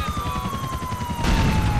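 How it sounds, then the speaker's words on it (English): Rapid gunfire and explosions in Grand Theft Auto IV with a police mod: a steady train of sharp, rhythmic shots with a ringing tone above, then a heavier, louder rumbling burst near the end. "Explosions."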